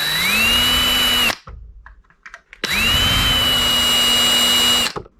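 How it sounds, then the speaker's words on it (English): Two bursts of a high-pitched power drill whining up to speed and running steadily, drilling rivet holes in a headlight bracket on a Honda ATC 200X, separated by a brief pause with light clicks and handling noise. "take a drill bit and kind of mark on the bracket where we need to drill our holes"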